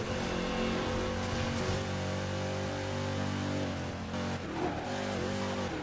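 A Ferrari in the racing video game Midnight Club 3: Tokyo Challenge accelerates with a loud, sustained engine roar that climbs in pitch through the gears, with a brief dip near the end as it shifts, and no talking over it.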